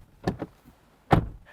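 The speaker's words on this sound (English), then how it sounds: "This is what our door slam sounds like." Car doors on a 2024 Mazda CX-60 shut with solid thuds: one lighter knock followed by a brief echo, then a heavier, louder slam about a second later, close and with no talk.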